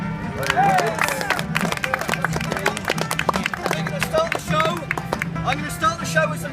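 Audience applause at a Seattle Folklife Festival 2017 street performance: dense, steady clapping from a crowd close by, with murmuring voices and scattered cheers mixed in, lasting the whole stretch.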